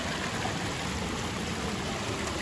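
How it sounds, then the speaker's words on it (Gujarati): Badva waterfall, a year-round falling stream, produces a steady, full broadband rush of flowing water throughout, close and loud, with no talk over it. "આ આખો ધોધ છે"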